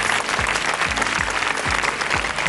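An audience at a Tamil television show applauds steadily and loudly for the day's winner, a dense wash of clapping with rhythmic low thumps beneath.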